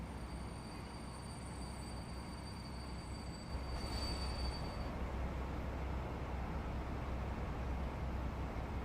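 A train runs along the line in a railway simulation game, a steady loud rumble of wheels on track with faint high squeal tones that fade partway through, no voices.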